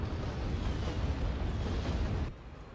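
Grenadier artillery bombardment in the Act of Aggression strategy game comes as a continuous loud rumble of overlapping explosions that rolls on for about two seconds before it cuts down abruptly to a quieter background.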